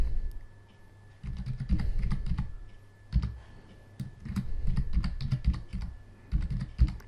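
Fingers tap out an email address on a computer keyboard in a steady run of close, crisp key clicks, grouped in short bursts with brief pauses and a low background hum.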